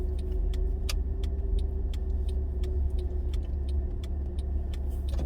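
A car moves slowly during a first driving lesson, its engine a low steady hum inside the cabin, with faint regular ticking like a turn signal over it and no talking.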